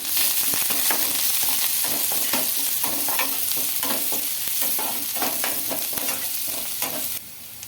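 Green chillies, chopped onions and curry leaves frying for egg keema, with a loud steady sizzle and repeated spatula scrapes and stirs against the pan close by, then a slight drop in level near the end.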